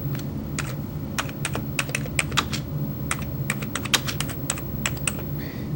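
Fingers type on a Commodore Amiga 500 keyboard, a close run of crisp, uneven key clicks in quick bursts with short pauses, alone and without talk.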